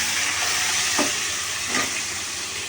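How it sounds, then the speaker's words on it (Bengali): Onion, spices and tomato frying in a pan for mixed khichuri give a steady, close sizzle, with a couple of brief stirring scrapes rising over the hiss. "দিয়ে আবার এটাকে ভালো করে ভাজবো।"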